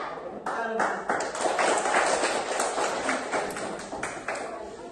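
Rhythmic group clapping from a class of children in a classroom, a fast patterned burst of claps repeated in sets, fairly close and loud, with children's voices chanting along.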